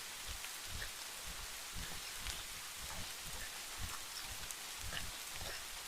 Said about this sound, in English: it's a rainy day, but lovely and calm and mild